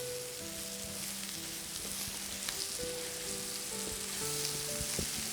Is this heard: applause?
no